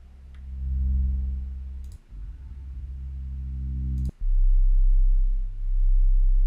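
A deep, sustained sub bass tone rumbles steadily, with a couple of sharp clicks and brief dropouts between notes.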